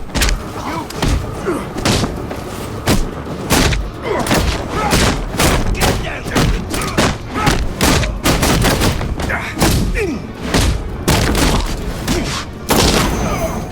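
Gunfire and heavy impacts in the video game Batman: Arkham Knight, a rapid series of loud booming shots and thuds repeating through the fight, with a voice talking over them.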